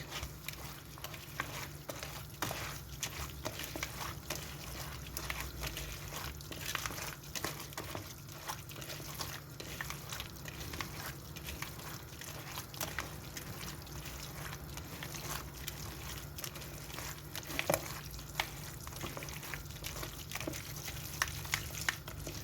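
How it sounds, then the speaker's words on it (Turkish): Spoon stirring dry dolma filling mixed with black pepper, chili flakes and salty pepper paste, a faint steady scraping and rustling that goes on without pause. "Şimdi bunu böyle karıştıralım güzelce."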